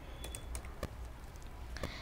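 Typing on a computer keyboard, a handful of distinct close key clicks spaced irregularly over a faint steady background hum, no talk.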